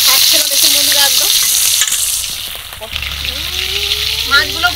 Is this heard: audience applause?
no